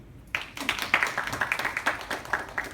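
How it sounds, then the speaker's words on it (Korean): Students at a career fair workshop clap for themselves. After a brief quiet moment the claps start together and run as a lively patter of hands for the next two seconds. "스스로 박수 한번 쳐주세요"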